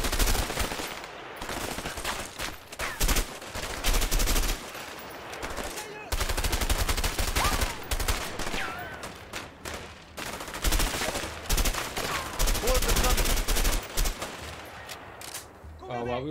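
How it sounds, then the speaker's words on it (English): Repeated gunshots in A Way Out, rapid bursts of automatic fire and single loud cracks in quick succession over several seconds, mixed with talking voices. "Well, it looks like we shoot him."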